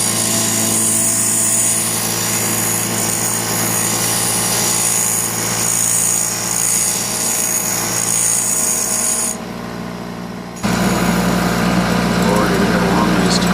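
Angle grinder cutting a notch in metal for the front plate, a loud steady harsh whine running throughout, briefly dropping near the end before resuming, with no talk over it.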